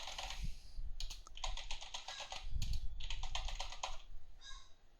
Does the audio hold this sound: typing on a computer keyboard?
yes